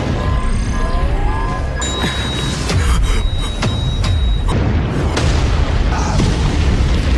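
A loud, dense explosion sound effect with deep rumbling booms and crackling bursts over a sustained roar, with several sharper hits through the middle of the clip.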